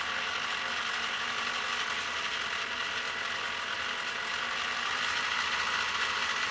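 A PFAFF 332 sewing machine, bought secondhand, runs steadily in its slow gear with the pedal fully down, giving a continuous mechanical whir and fine ratcheting clatter at an even level throughout.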